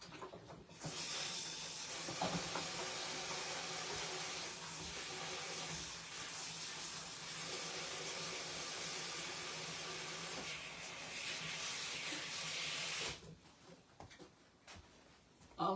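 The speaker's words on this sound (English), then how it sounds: "let me wash my hands" Steady tap water runs into a kitchen sink for handwashing during home cooking, a broad even hiss that holds for about twelve seconds and then cuts off, with no talking over it.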